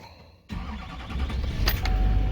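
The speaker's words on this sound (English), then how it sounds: "we want to start up the truck" A Chevy Silverado 2500's 6.6L diesel engine cranks abruptly after a quiet moment and catches into a loud, rough idle that grows steadier, with a brief clatter partway through.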